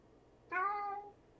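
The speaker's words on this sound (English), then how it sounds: "Meow. Meow. And then there's a cat." A single clear cat meow, short and rising, heard alone against a quiet background.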